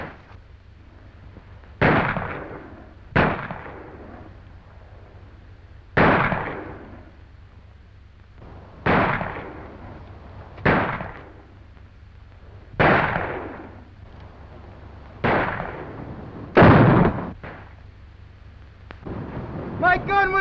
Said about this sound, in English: My gun was loaded that time, Hoppy!